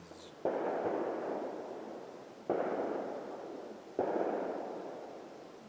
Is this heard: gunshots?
yes